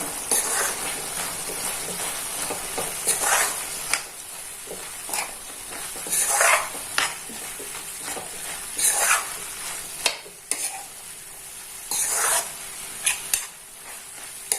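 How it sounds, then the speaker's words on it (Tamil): Curry leaf fried chicken is stirred in a hot pan, a steady sizzle of frying broken by repeated scraping strokes of a spoon against the pan, close and fairly loud. "இதையும் நல்லா கிளறிடலாம்."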